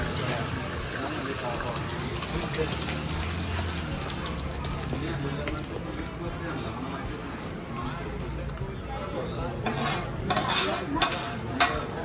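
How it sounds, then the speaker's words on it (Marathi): Dal cooked with tomato gets a sizzling tadka and is stirred. Continuous scraping and a soft frying crackle run throughout, with people talking over them. "डाळीला दिलेली आहे फोडणी आणि डाळ शिजवलेली आहे"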